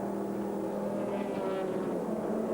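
Race cars lap the circuit at a 2001 American Le Mans Series round while the number 4 Corvette pits, heard as a continuous, fairly loud engine drone that holds steady throughout.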